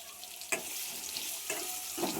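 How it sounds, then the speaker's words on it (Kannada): Marinated paneer frying in a pan with a little oil, a steady close hiss of sizzling broken by a few soft stirring scrapes, continuous and even throughout, with no voices. "ಗೋಲ್ಡನ್ ಬ್ರೌನ್ ಬರೋವರೆಗೂ ಹುರ್ಕೊಬೇಕು."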